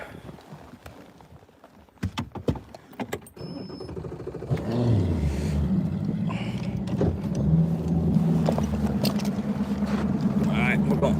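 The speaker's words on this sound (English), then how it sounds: "we're gonna idle out of here, guys" A bass fishing boat's outboard engine starts with clicks and clunks, then idles in a steady low rumble, moderately near, while people talk over it.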